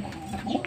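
A racing pigeon, a Melucci inbred bird, coos softly and close by in a short low burble, with a faint higher chirp near the end.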